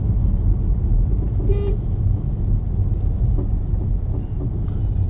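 Busy road traffic on a street dug up for metro construction, with a steady close rumble of vehicles and a short car horn toot, plus a few fainter honks later on.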